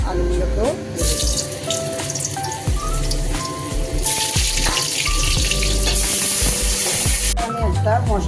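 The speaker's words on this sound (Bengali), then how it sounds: "এবার আমি আলুগুলোকেও ভেজে নেব ইঁচড়ের মতো।" Potatoes fry in white oil in a pan for a jackfruit biryani, a close, steady sizzle broken by clinks and scrapes of stirring, with faint background talk.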